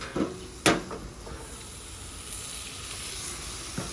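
Chicken topped with mozzarella sizzles and steams on a hot griddle under a dome. A soft, steady hiss runs throughout, with a couple of sharp metallic clanks near the start and a lighter knock at the end.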